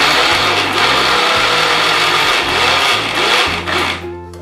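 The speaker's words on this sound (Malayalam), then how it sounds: "ഇപ്പം ഞാൻ അടച്ചു വെച്ച് വീണ്ടും അതേപോലെ തന്നെ ബീറ്റ് ചെയ്യാൻ പോകും" Electric kitchen mixer jar beating puttu rice flour with a little water: a loud, close, whirring motor drone with rattling of the flour in the jar, pulsing in several bursts before winding down.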